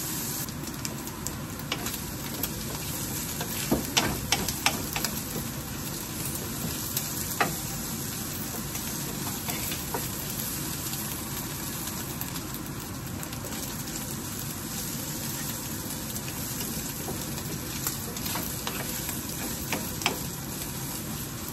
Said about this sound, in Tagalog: ma-prito ng ma-fried ng konti yung carrot, yung squid ball at saka yung shrimp ball natin